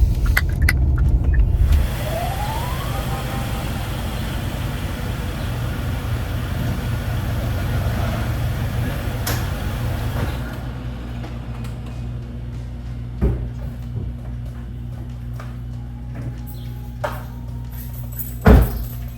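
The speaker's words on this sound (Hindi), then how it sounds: "गाड़ी ना मैंने अंदर ही खड़ी कर ली।" A car rolls in and parks at a home, its engine running steadily and fairly close for about ten seconds before cutting off, followed by quieter scattered knocks and a sharp thump near the end.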